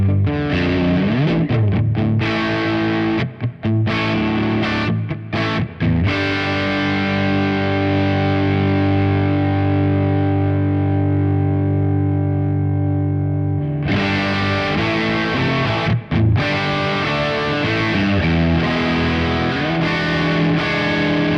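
Electric guitar played through the amp models of a Sonicake Matribox, with loud distorted chords and sustained notes, a long ringing hold in the middle, then more chugging strums.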